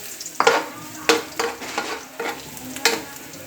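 Garlic sautés in a pan for a Kapampangan miki noodle dish, a low sizzle broken by several sharp scraping stir strokes at an uneven rhythm, close by and with no talking.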